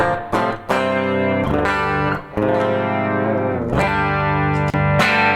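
Electric guitar in active mode rings out chords and picked notes with a clean, shimmering tone, sustained and close, no voices.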